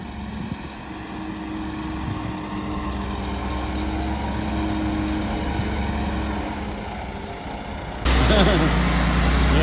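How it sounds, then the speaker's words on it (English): An old volumetric concrete mixer truck rumbles past with a steady, loud engine drone and a brief hiss, and the sound swells abruptly near the end as it comes close. "that's their old volumetric truck"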